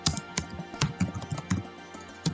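Quick close taps on a computer keyboard while entering Python code, an uneven run of soft clicks in bursts, fairly quiet and with no voice.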